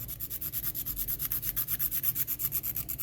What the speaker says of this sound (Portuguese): E com isso, você vai lixando bem devagarzinho e tal, né?